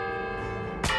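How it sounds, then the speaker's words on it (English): A metal bell struck by a gunshot in Hitman on the Sapienza map, ringing with a sustained tone, then a sharp loud impact near the end, no voices. "So you gotta shoot these four bells."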